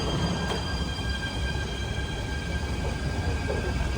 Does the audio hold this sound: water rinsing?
no